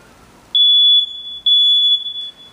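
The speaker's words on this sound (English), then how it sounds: "In most cases, most of you probably have battery-operated smoke alarms." A battery-operated smoke alarm is tested by pressing its button, letting out two long, loud, piercing high-pitched beeps separated by a short gap, with no talking.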